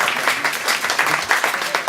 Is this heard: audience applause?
yes